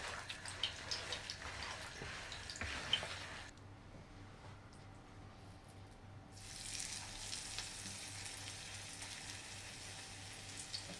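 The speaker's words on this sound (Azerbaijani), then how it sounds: "Tam qızmalıdır yağ. Bundan sonra biz qarışımımızı bura əlavə edə bilərik." Zucchini fritter mixture spooned into hot oil fries with a soft, low sizzle and faint crackle, dipping briefly quieter midway before the hiss returns, all fairly faint and without voices.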